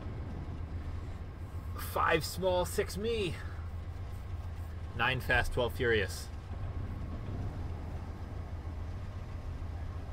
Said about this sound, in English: our prime mover has been operating this whole time, as you can hear from all the background noise